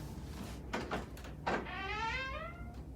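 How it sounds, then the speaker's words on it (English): An old door in a reportedly haunted house creaks open, a few short knocks and rubs followed by a long wavering drawn-out creak, close and fairly quiet with no talk. "Creepy door in a haunted house just because we can."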